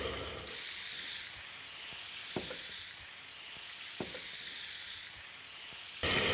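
Whole garam masala of one cardamom pod, two pieces of cinnamon and a bay leaf sizzles in hot oil for a coconut duck dish: a steady, fairly soft hiss with a few light taps of stirring and a sudden louder burst at the end.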